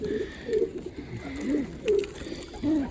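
Pigeons cooing close by, several soft rolling coos repeating at irregular intervals over a low background murmur.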